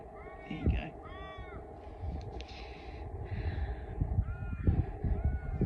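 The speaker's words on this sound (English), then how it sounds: "Lots of crows I can hear in the background." Several crows caw repeatedly in the distance on an outdoor sculpture farm in Dungog, NSW, their calls recurring under a person talking and steady outdoor background noise.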